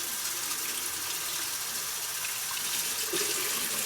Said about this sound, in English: What I'm going to do is I'm going to run my water till it's warm.